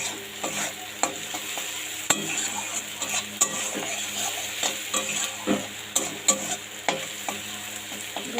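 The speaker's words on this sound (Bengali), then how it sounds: "ভেজে নেবো একটু আলুটাকে লাল লাল করে।" Potatoes fry in a pan of oil while a spatula stirs them, with a steady close sizzle broken by regular scraping and tapping strokes against the pan, and no talk.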